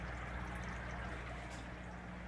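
A white noise machine in a hospital room gives off a steady, even hiss over a low constant hum, unchanging and moderately quiet throughout.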